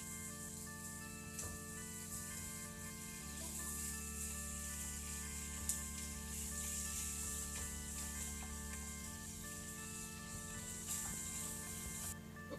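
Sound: tortilla with cheese cooking in a pan

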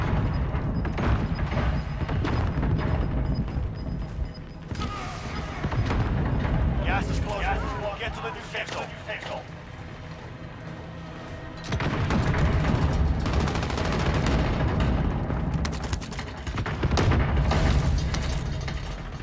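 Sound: gunfire in Call of Duty Modern Warfare video game

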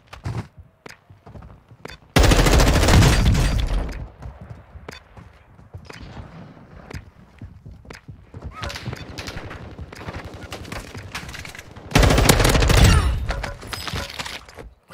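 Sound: STB 556 rifle gunfire in Warzone 2.0 video game

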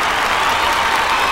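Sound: audience applause

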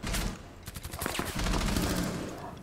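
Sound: gunfire in the video game Rainbow Six Siege

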